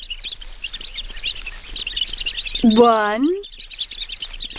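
Baby birds in a nest chirp in a constant stream of thin, rapid peeps, while a voice briefly speaks over them.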